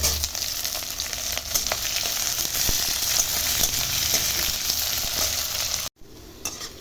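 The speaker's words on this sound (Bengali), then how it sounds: "এইবার আমি এর মধ্যে দিয়ে দিচ্ছি আগে থেকে কুচিয়ে রাখা পেঁয়াজ আর কাঁচা লঙ্কা চেরা।" Onions and split green chillies sizzle loudly in hot oil with garlic, a dense continuous frying hiss with occasional stirring clicks, close up and without talk, cutting off abruptly near the end.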